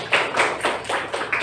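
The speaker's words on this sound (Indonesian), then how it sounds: "Tepuk tangannya." Students in a classroom clap hands in a few quick bursts, roughly four or five sharp uneven claps close to the listener, with no talk over them.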